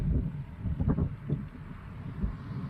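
Headwind buffets the microphone of a cyclist riding along a busy highway, average speed dropping to 16 km/h, a low rumbling roar that swells and eases in gusts, with passing traffic noise mixed in.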